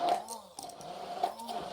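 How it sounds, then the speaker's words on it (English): Prunes being pureed in an electric kitchen appliance for a Finnish Christmas dessert, a steady mechanical whir with a few brief pulses and changes in load, moderately close and fairly quiet. "now I'm going to just puree this even further"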